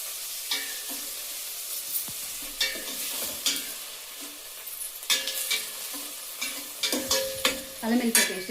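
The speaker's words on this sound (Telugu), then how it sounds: "టమాటో ప్యూరీ వేయాలి. పచ్చి వాసన పోయే వరకు బాగా ఫ్రై చేసుకోవాలి" Onions and tomato puree frying for pav bhaji, stirred hard in a pan, with loud scraping and clattering strokes over a steady sizzle, getting busier toward the end.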